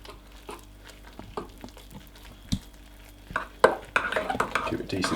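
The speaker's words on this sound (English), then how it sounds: "Give it a decent stir, it'll start thickening up." A spoon stirs strawberry cheesecake casein protein custard in a bowl, making soft scrapes and clinks that start sparse and quiet, then turn busier and louder near the end.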